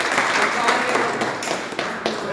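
A crowd claps steadily at a local political gathering where workers from other parties are joining the NC. The clapping is dense and unbroken and blends with murmuring voices.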